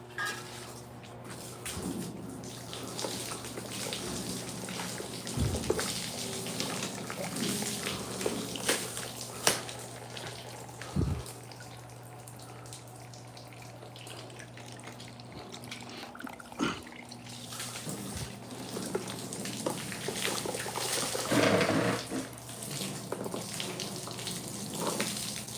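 Clean, soap-free water runs steadily from a tap in a garage setting where a 1968 C10 truck bed is being water sanded; the flow is moderate and continuous, with a few clunks and knocks.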